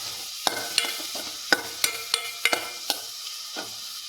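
A spatula scrapes and knocks against a pan of frying soybean roast in a string of sharp, separate strokes with brief pauses between them. A faint sizzle sits underneath, and no one speaks.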